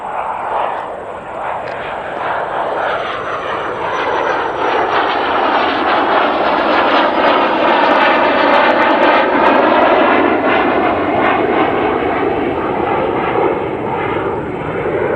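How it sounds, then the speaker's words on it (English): A fixed-wing airplane flies low near a small airport, its engine roar loud and sustained throughout, swelling steadily as it passes overhead. "Massive planes."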